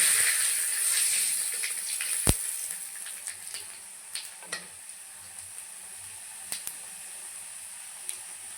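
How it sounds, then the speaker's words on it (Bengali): Panch phoron and dried chillies sizzle in hot oil as a steady, soft hiss with scattered small pops and crackles, fairly quiet and close, with no voices. "ওই তেলে দিয়ে দেব পাঁচফোড়ন, দিয়ে দিচ্ছি শুকনো লঙ্কা"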